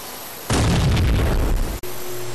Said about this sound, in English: how exactly did you make an explosion out of shooting a tree with your pistol?